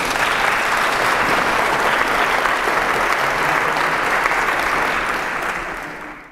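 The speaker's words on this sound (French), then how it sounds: "Nous pouvons l'applaudir pour la communion." A church congregation applauds in one dense, steady wash of clapping. It holds loud and even for about five seconds, then fades away, with no voices over it.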